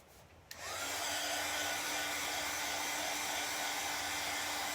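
A craft heat dryer, used to dry chalk paste on a craft project, clicks on and then blows with a steady, close whirring hum that continues without a break and without talking.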